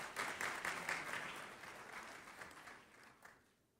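Applause from people gathered in a Chicago city council chamber during a budget address, a fairly faint burst of clapping that swells at the start and gradually thins out and fades.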